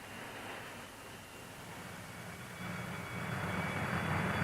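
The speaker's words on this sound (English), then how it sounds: "The steady beat from massed bombers, the whine of attacking and defending fighter planes" Massed World War II bombers and fighter planes droning overhead, a steady low engine roar that swells louder toward the end.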